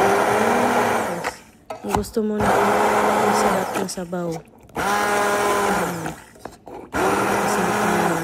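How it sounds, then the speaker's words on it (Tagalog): A kitchen blender whirs loudly while blending fish soup ingredients into liquid, running in long bursts broken by short pauses, with a person talking over the motor. "Kung meron kang ganito yung blender,"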